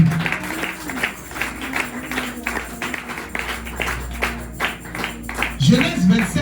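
A church congregation claps in acclamation of Jesus during worship, with scattered, uneven clapping and a voice speaking over it.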